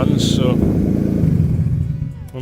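A Nissan Micra engine being rebuilt idles steadily with no coolant in it, a continuous low mechanical drone, close and loud, with a brief higher burst early and a voice speaking over it.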